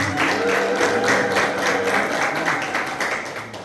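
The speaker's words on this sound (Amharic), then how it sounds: "አጨብጭቡላችሁ።" A church congregation at an Orthodox wedding claps together, a dense, steady patter of many hands that holds evenly and then begins to thin out toward the end.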